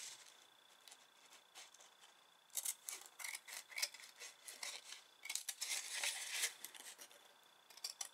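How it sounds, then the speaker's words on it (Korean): Paper coffee filter being cut with scissors to a size slightly larger than a titanium piece, with a faint crisp snipping and rasping that turns louder and more frequent in two bursts partway through, without any talking. "필터를 아노다이징할 티타늄보다 약간 크게 잘라줍니다."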